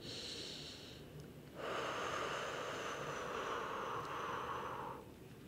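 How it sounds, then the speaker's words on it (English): Long, deep breaths drawn in and let out during a Pilates hip stretch: a short airy breath, a pause, then one big sustained inhale of several seconds, close and breathy with no talking. "One more big deep breath in."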